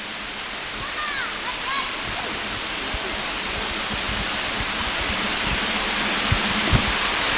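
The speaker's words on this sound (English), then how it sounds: "there's not a lot of water coming down here, but it is officially a waterfall" Small waterfall with a light flow in a park canyon in Victoria Park, Truro, Nova Scotia, giving a steady broad rushing hiss throughout, with faint birdsong early on and a few soft thumps.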